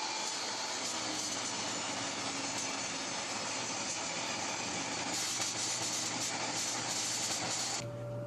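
A table saw rips a wood slat of maple or jatoba for a cutting board, set up with a feather board and a fence one inch from the blade; a steady, loud whining cut runs throughout, then drops off abruptly near the end.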